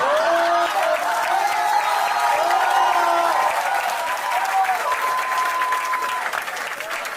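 An audience at a comedy show bursts into steady applause, loud and even throughout, with whoops and voices rising above the clapping.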